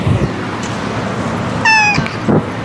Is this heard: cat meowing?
yes